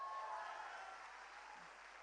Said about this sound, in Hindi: एक बार चंडीगढ़ के लिए तालियां